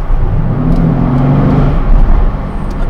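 A 2020 Mercedes-AMG C63 S Estate revs close by with its exhaust opened up, a loud, deep, rising engine growl that swells and settles over a few seconds.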